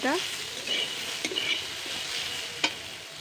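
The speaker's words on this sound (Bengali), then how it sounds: "এটা 2 মিনিট ধরে নেড়ে নেব, ভালো করে ভেজে নেব।" Beetroot pieces fry in a pan with garlic, a soft continuous sizzle broken by several scraping stirs and a couple of clanks from the spatula, fairly quiet and close.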